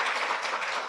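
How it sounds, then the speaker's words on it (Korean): Audience applause at a forum, a steady dense wash of clapping filling the short moment without pause. "발표해 주신 김신우 팀장님께 큰 박수 부탁드립니다"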